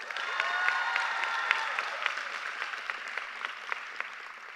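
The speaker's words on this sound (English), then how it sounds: "Based on that thunderous applause" Thunderous applause and cheering from a graduation crowd at Riviera Beach Preparatory and Achievement Academy, sustained clapping with shouts on top that stays strong before slowly tapering off.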